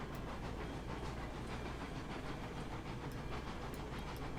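A train runs past a sawmill in the Railroads Online video game, giving a steady, dense rumble and hiss with faint rhythmic clacking, even in level throughout and with no voices.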